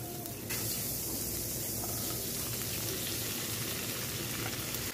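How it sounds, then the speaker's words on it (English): Thin-sliced beef sizzling in butter with sweet peppers and onions in a single pot, a steady close frying hiss that starts abruptly and runs continuously without speech. "let's saute this beef in some vegetables and some butter."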